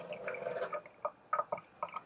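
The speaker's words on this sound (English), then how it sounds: "But I'll just kind of slowly water it in." Tap water drips and trickles into a pepper plant pot being slowly watered, a few soft, close drops and splashes spaced irregularly over quiet.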